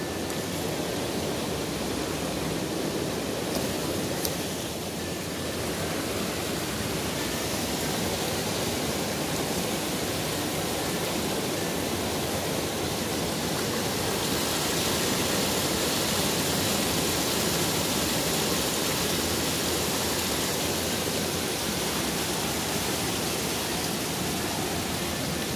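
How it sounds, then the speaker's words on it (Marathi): Light drizzle falling outdoors in the Konkan countryside during crab catching, a steady, even wash of fine hiss that carries on unbroken for the whole stretch, with no voices over it. "बारीक बारीक पाऊस पण सुरू झालो आता."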